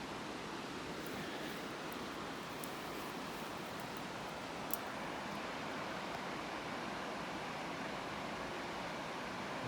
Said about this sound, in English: There's clearly a waterfall down here.